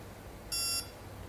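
A single short, high-pitched electronic beep from a device, clear against a quiet background.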